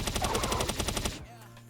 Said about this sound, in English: what I like to use is a machine gun